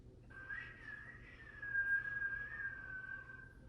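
A single sustained whistled melody, gently wavering in pitch, quiet and steady over a low background hum.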